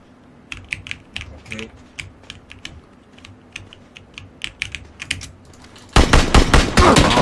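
Rapid bursts of gunfire in a first-person shooter game mixed with sharp keyboard clicks, the shots growing dense and loud toward the end.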